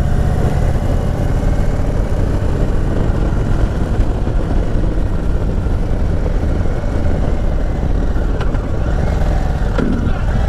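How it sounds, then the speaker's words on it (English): An Indian Sport Chief motorcycle engine brakes through its exhaust, a steady, loud, rumbling drone with wind noise and a few faint pops near the end. "It's like when an engine brakes with this exhaust."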